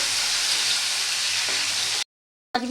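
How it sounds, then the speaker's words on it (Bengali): Cashews and raisins fry in ghee with a constant close sizzle and hiss. It cuts off into silence, then a brief clatter follows near the end. "কাজু কিশমিশটা একটু ভেজে নিতে হবে"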